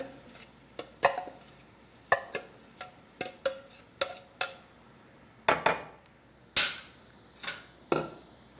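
Corn being stirred in a pan, heard as a dozen or so sharp, irregularly spaced scraping clacks of a utensil against the pan over a quiet background, with no talking.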